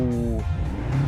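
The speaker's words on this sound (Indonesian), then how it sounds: "Rumble V8 memang nggak pernah salah" The 4.4-litre twin-turbo V8 of a Land Rover Defender Octa, set to dynamic mode with four exhaust tips, blips loudly nearby, climbing to a brief rev before dropping back to a deep burbling rumble.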